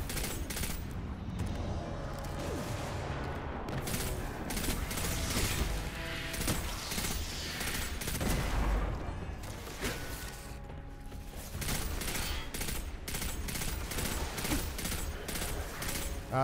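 Pulse rifle gunfire in the video game Destiny 2, with dense rapid bursts of shots and mechanical clatter running almost continuously and loudly through the whole stretch, with only brief lulls.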